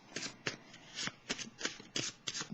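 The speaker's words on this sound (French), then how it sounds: "J'en profite pendant que je mélange les cartes" Tarot cards being shuffled up close, a quick run of crisp riffling bursts repeating about every half second, quiet and without talk.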